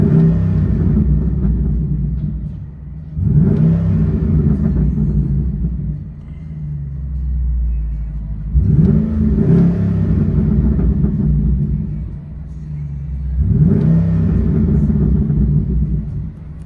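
Straight-piped 2013 Chevy Caprice 6.0L V8, a former squad car, revs hard from inside the cabin, with three deep, rumbling surges that rise and fall at steady intervals over a loud idle.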